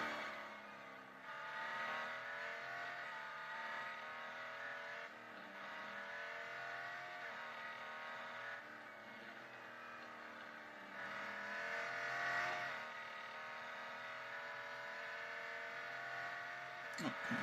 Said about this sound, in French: Qu'est-ce qu'elle monte haut dans les tours?